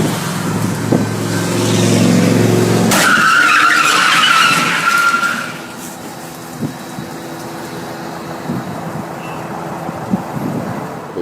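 Non-running cars are pushed into a staged film stunt crash, with a loud, close tyre screech that builds for a few seconds, then a harsh scraping skid, followed by a few scattered knocks and rattles as the cars settle.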